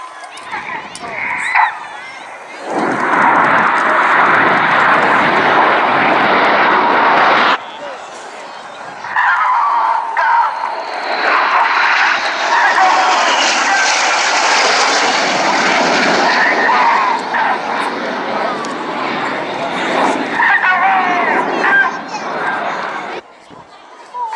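A display aircraft flying at the RAF Cosford air show in 2016 as its smoke trails come on: a loud, sustained engine roar swelling and fading across the sky, with crowd voices faintly beneath.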